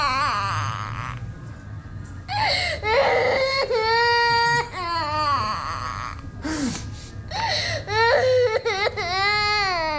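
An infant cries loudly and continuously in long wailing bursts with short breaks for breath, close to the listener, with a low background hum underneath.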